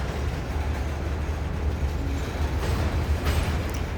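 A very long freight train rolls past at Wartrace, Tennessee on a cold day, giving a continuous low rumble and clatter of cars that holds steady throughout, with a faint brief tonal squeal partway through.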